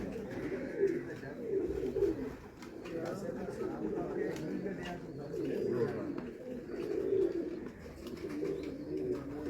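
Pigeons belonging to a breeder in Pakpattan coo softly in low, rolling phrases, repeating at a gentle rhythm at a moderate distance, with people talking nearby.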